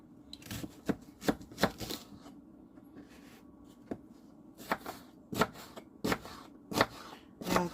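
A kitchen knife slices through a peeled onion for homemade French onion soup, giving sharp, close cuts in uneven bursts with short pauses between runs of strokes.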